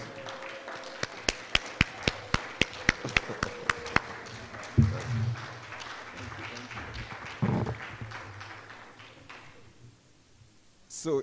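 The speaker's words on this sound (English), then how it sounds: "Please, a big round of applause for him." At an academic close-out ceremony, a few sparse claps ring out at first, then fade into scattered tapping and movement with occasional talk, without building into full applause.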